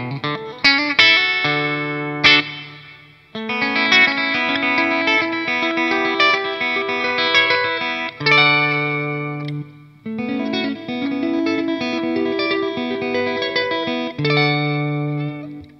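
An electric guitar plays quick, snappy picked country licks in bursts of bright, twangy notes, with short pauses between phrases and no voices.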